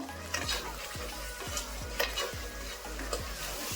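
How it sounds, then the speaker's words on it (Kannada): Coriander powder and turmeric fry in a pan for a mushroom rice dish, a quiet steady sizzle with rhythmic spatula scrapes and taps about every half second, heard close with no speech. "ಇವಾಗ ಇದು ಒಂದು ಸ್ವಲ್ಪ ಚೆನ್ನಾಗಿ ಫ್ರೈ ಆಗಬೇಕು"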